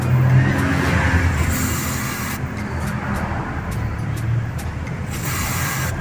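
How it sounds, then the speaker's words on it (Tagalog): Aerosol spray directed at a motorcycle's kick-start shaft during kick system adjustment, a steady close broadband hiss lasting about six seconds with a low rumble underneath and no talking. "at spray nyo siya"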